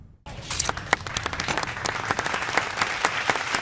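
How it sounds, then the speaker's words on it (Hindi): A short burst of lively applause from a small group in an indoor drama scene starts abruptly and continues as brisk, uneven clapping. "तालियां तालियां"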